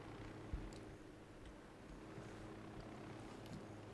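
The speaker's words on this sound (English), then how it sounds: "Is anyone else still hearing that chopper?" A helicopter in Ghost Recon Wildlands drones steadily in the distance, a faint continuous rotor rumble and hiss that holds unchanged throughout.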